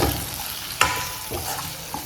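Mutton curry with chili powder sizzles in a pan as it is stirred, a soft steady frying hiss broken by a couple of sharp scrape and clack strokes over about two seconds.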